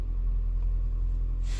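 A car engine idles steadily with a low, continuous rumble while an OBD diagnostic scan tablet is connected, alone and fairly close, until a brief hiss of noise at the end.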